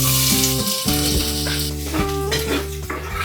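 Garlic fries in a pan for pork binagoongan, giving a loud, close sizzle with scraping stirs and a tonal musical bed underneath.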